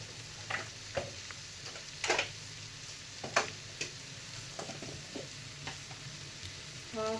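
A spoon scrapes and stirs red chili powder, salt and ground cumin in a frying pan for chicken spring roll filling, with scattered close taps and scrapes over a faint background sizzle.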